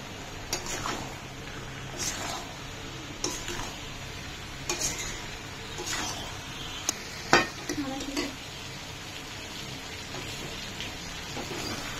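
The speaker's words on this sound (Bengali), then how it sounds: "জিরের গুঁড়ো, ধনের গুঁড়ো, কাশ্মীরি রেড চিলি পাউডার আর একটু লঙ্কা গুঁড়ো দিয়ে ভালো করে কষাবো" Chicken being sautéed with cumin, coriander, Kashmiri red chili and chili powder in a pan, a low frying crackle broken by repeated spatula scrapes and clanks, one sharp knock near the middle, close by.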